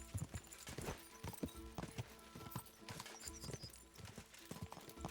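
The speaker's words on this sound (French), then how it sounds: "Mon cheval, il est nul pour la course." A horse's hooves clip-clop steadily in the medieval game Kingdom Come Deliverance 2, a brisk, rhythmic run of distinct hoof strikes at close range with no talk over them.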